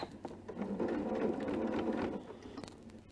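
Sewing machine running through fabric for a bag pocket, the needle working close beside a metal part; a close, steady whirring hum that runs for about two seconds, then gives way to a few scattered clicks.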